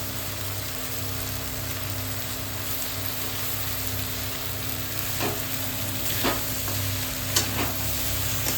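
Chow mein noodles with egg and chicken fry in a pan, a continuous sizzle with occasional scraping stirs and light clinks of the utensil near the end.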